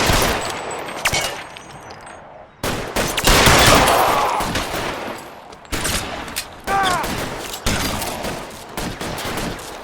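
Gunfire in a police shootout in L.A. Noire, loud bursts of rapid shots and single cracks repeating in clusters with echoing tails, close and intense, with voices shouting between volleys.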